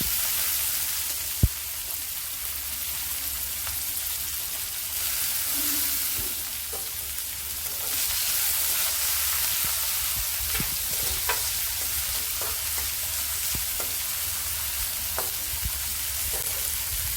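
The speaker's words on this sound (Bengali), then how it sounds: "রসুনটা একটু সতে হয়ে গেছে, এবার পেঁয়াজ কুচি দিয়ে দিলাম" Steady sizzling of onions and garlic frying in a pan, with occasional soft scrapes and clicks of stirring, no voices.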